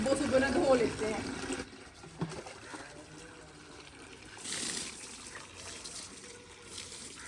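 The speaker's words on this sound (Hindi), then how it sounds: "मंजी को पहले मैंने पानी से गीला किया है" Water poured onto a charpai to wet it for washing outdoors in a village home, a trickling, splashing pour up front that fades into softer dribbles, with a voice talking over it.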